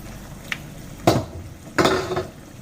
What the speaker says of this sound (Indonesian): Saya aduk-aduk selama beberapa menit sampai sedikit berubah udangnya